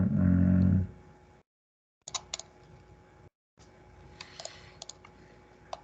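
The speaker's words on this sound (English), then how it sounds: "I'm just clicking and dragging it into the board." Computer mouse clicks while dragging an item in drawing software, heard as a few sharp, close clicks in bursts over quiet room tone after a brief low rumble at the start.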